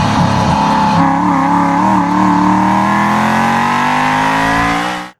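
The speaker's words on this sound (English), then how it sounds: "here's a little in-car video of me driving on the Formula One track in Texas." A race car engine roars steadily on the Formula One track at Circuit of the Americas in Texas, loud and close from inside the car, its pitch climbing gradually as it accelerates before cutting off abruptly.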